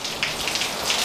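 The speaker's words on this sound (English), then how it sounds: "I guess while I wait for the rain to stop" Steady rain falls outside a garage, a dense, even hiss of drops on a hard surface with a few brighter patters, close and continuous with no voices.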